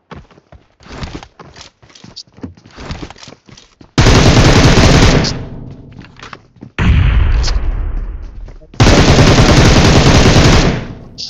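Video game gunfire in Free Fire: scattered sharp shots, then three long, loud bursts of sustained automatic fire, close and dense, with no voices.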